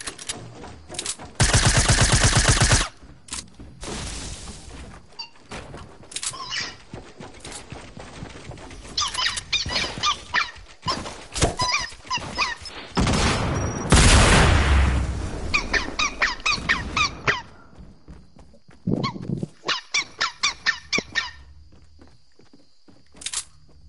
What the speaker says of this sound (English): The dog squeaky toy.